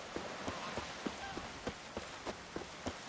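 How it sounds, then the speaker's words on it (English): Rain in The Witcher 3, a steady close hiss of falling rain with a regular clip-clop of thuds beating through it, with no voices. "Raining again."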